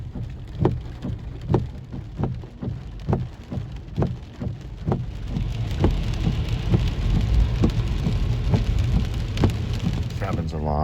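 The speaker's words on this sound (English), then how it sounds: "You got the sprinklers going in the rain at the same time." Rain falls on a car while lawn sprinklers spray across it, a steady close wash of droplets with rhythmic thumping bursts repeating about every half second.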